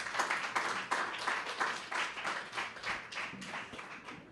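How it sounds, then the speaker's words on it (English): Audience applause at the opening ceremony of a Caribbean coalition on sexual and reproductive health, a fairly steady patter of many hands clapping at moderate distance that holds for several seconds and eases slightly toward the end. "Another round of applause for the group."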